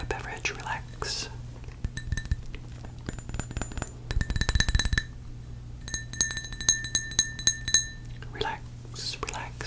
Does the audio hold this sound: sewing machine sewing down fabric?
no